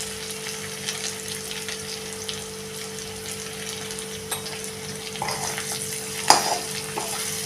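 Bitter gourd curry with tamarind, jaggery and goda masala being sautéed in a pan, a soft, low sizzle with occasional stirring clinks and scrapes under a steady background hum, with no talking.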